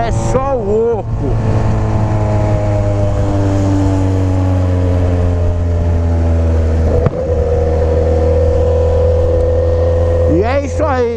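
Yamaha XJ6 motorcycle running a straight 2.5-inch pipe with no muffler or internal baffle, a loud, close, raspy engine drone holding steady through a long pull, with brief revs and shifts near the start, middle and end, and a voice speaking over it.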